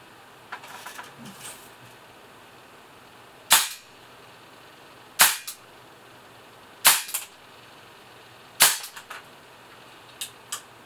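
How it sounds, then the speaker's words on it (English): Single shots from a WE C96/M712 gas blowback airsoft pistol: four loud, sharp cracks spaced about one and a half seconds apart, each with a short ringing tail, plus a few faint handling clicks before and after. "I'll go and fire a few single shot rounds and then go on full auto"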